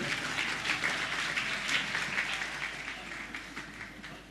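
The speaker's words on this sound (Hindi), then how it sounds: "अरे ताली तो हो जाओ यार" Scattered clapping from an audience at a spiritual discourse gathering, a steady dense patter of hands that fades slightly toward the end, with no voices over it.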